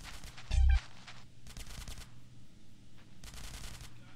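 Gunfire in GTA San Andreas comes in short automatic bursts and single shots, sharp and fairly close, separated by brief pauses, with no speech.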